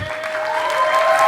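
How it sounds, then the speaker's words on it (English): Graduation ceremony audience at a high school breaking into sustained applause, dense steady clapping that stays loud and builds slightly throughout, with no voices standing out. "I would like everybody in this place to stand up and give this group an ovation."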